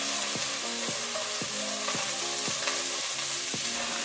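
Food sizzles loudly and steadily in a hot frying pan, with a few rhythmic knocks and scrapes from stirring or tongs under the constant frying hiss.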